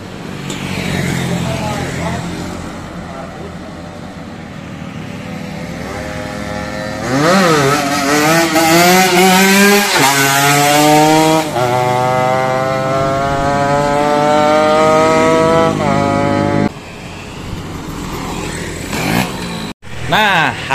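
A motorcycle engine fitted with a PWK carburetor revs hard and steadily for about twenty seconds, its pitch climbing and falling through repeated throttle blips. The revving is loud and close, with brief dips before it cuts off near the end.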